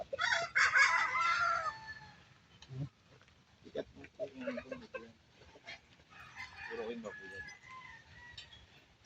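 Chickens and roosters on a farm: a rooster crows loudly at the start, followed by scattered clucks and calls, with a dog also heard and voices talking in the background.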